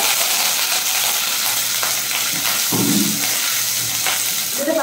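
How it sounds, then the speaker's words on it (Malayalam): Chopped ginger, garlic and green chillies fry in hot oil for a fish curry, giving a loud, dense, continuous sizzle with a few faint spoon scrapes, heard close and alone. "എണ്ണ ചൂടായി വന്നിട്ടുണ്ട്. നമുക്ക് അതിലേക്ക് ഇഞ്ചി, വെളുത്തുള്ളിയും പച്ചമുളകും ചെറുതായിട്ട് അരിഞ്ഞ് ചേർത്ത്"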